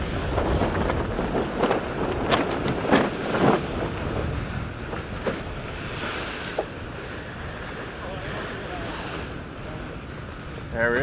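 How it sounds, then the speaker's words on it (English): Sailboat tacking and coming about at sea during sea trials, with a continuous rush of wind and water, wave splashes, and some rattling and knocking aboard, close and fairly loud. "Here we are coming about,"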